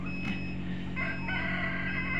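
Tiger breed parent chickens on a farm crow and cluck together in a steady, busy chorus close by. Overlapping calls continue with no talking.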